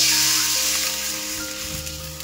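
Water poured into a hot wok holding a fried fish head, with a loud steady sizzle that gradually eases and settles over a couple of seconds, with no voices.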